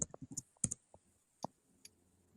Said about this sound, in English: I can hear the click, click, click, click, click, click